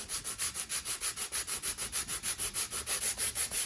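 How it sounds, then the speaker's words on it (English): An electric guitar kit body, an AKLOT Stryde, being sanded by hand in steady rapid back-and-forth strokes, close and even, the rasping rhythm repeating about five times a second with no talk. "He says as he keeps sanding"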